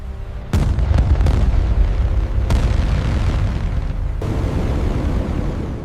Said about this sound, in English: That's a battleship. Its guns are about to open the invasion.